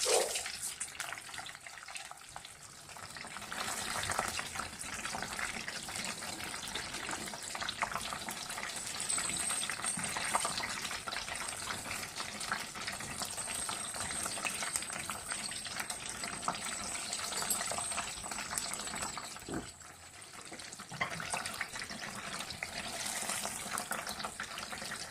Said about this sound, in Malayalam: ഒരു 2-3 പീസ് മാത്രം നമുക്ക് ഇട്ട് കൊടുത്ത് മീഡിയം ഹീറ്റിൽ വെച്ച ശേഷം നല്ലപോലെ ഒന്ന് ഫ്രൈ ചെയ്തെടുക്കാം